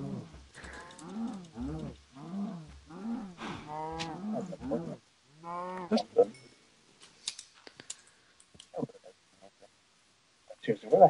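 Cows mooing in the video game Minecraft, several drawn-out lowing calls in the opening seconds, followed by sparse clicks and small game noises, with players talking over it.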